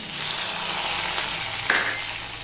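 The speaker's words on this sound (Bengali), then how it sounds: "এবার এখানে দেখো আমি একটা টমেটো আর 2টো লঙ্কা সেটা আমি দিয়ে দিলাম।" One tomato and two chillies sizzle in hot oil with cumin, a loud, continuous frying hiss that stays dense and even, with a brief stir near the end and no talking.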